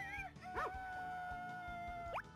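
Short synthesized dog barks from the Harvest Moon Back to Nature farming video game, a couple of yips heard over steady game background music.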